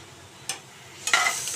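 Colocasia (taro root) pieces fry and sizzle in a pan, a soft steady crackle with two brief stirring scrapes, close and fairly quiet with no talk.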